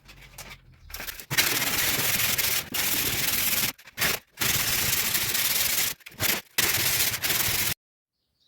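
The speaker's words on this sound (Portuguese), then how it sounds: "Vocês acompanham aí que eu vou lixar aqui agora para vocês verem." Sanding a styrofoam bathroom ceiling by hand, with loud, close, continuous rasping strokes in several long bursts separated by brief pauses, ending in silence.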